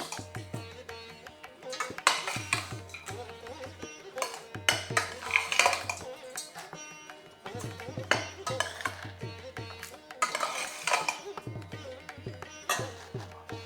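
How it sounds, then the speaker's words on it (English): Cooked rice for lemon rice is stirred into a tempering in a pan: a spoon scrapes and clinks against the metal in repeated irregular strokes, close and fairly loud, over a low steady hum. "Now I am adding my cooked rice to this tempering. Mix it nicely."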